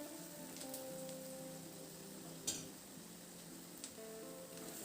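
Half a teaspoon of turmeric sizzling in hot oil in a pan for an okra curry; a faint, even hiss with a couple of brief clicks.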